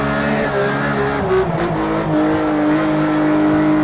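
A loud Porsche GT3 RS race car engine in the video game Project CARS 2 or Assetto Corsa revs continuously while drifting, its pitch wavering up and down as it drives hard without a break.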